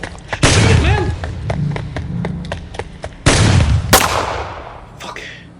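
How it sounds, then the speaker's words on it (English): Gunshots fired at an unseen creature: a few heavy, booming blasts spaced seconds apart, with a run of sharp clicking and clattering transients between them in a tense, noisy scene. "Whatever it is, shoot it."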